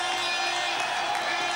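Inter Baku supporters cheer in a stadium after their side scores a fifth goal in a CIS Cup match against Zenit, a steady, even wash of distant crowd noise with no single standout shout.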